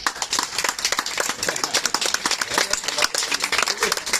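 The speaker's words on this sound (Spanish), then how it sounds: "Un aplauso a Julia." An audience at a children's beach comedy show at a civic centre claps in a dense, rhythmic burst of applause, many hands close and lively, sustained throughout.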